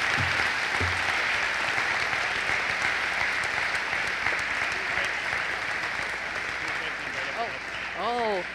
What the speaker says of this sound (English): let's give a round of applause for our Charger athletes and our coaches